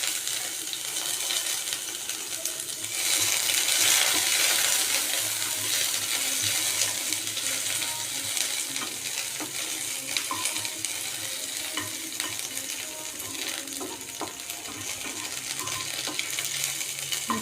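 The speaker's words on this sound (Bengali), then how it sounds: "একটুখানি জিরা ফোড়ন দিলাম, দিয়ে এবার দেব রসুন কুচি আর পেঁয়াজ কুচি।" Chopped garlic and onion frying in oil with cumin seeds in a pan, a continuous close sizzle with intermittent clinks and scraping of stirring throughout, no voices.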